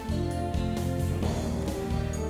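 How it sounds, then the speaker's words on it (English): A destination spinner whirs in the video game Nyanchan Sugoroku DX, with rapid repeating electronic ticks and chimes over busy game music, bright and continuous for a couple of seconds. "what you heard there was the destination being spun."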